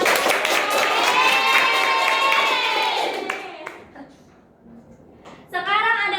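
Children in a third-grade classroom clap together in a loud burst of applause for about three seconds, which then fades; speech can be heard around the clapping.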